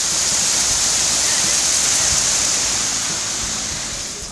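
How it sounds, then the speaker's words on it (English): A sudden hailstorm in Dunedin pelts down as a loud, dense, continuous hiss of ice striking surfaces, steady throughout and easing only slightly toward the end. "we got caught in a sudden hailstorm"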